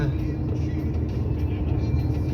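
A car on the road home, a steady low engine and road rumble heard from inside the cabin, continuous and fairly loud.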